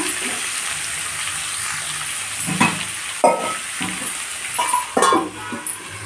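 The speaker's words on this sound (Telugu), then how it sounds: "ఇది ఇలా వేగనండి ఒక టూ మినిట్స్ మూత పెట్టి" Chopped ivy gourd and fresh coconut fry in a covered pan with a steady soft sizzle, broken by scattered louder crackles and the clink and scrape of a spoon stirring, close and fairly loud.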